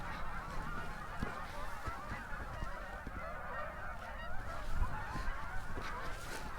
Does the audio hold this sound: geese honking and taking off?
yes